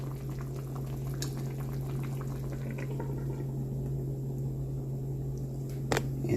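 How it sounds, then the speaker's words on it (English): A pot of oxtails boils steadily, with a continuous bubbling, gurgling rush of liquid and a low hum underneath, a sharp clink near the end. "And then we got our oxtails boiling, and we're just gonna let them simmer until they get tender"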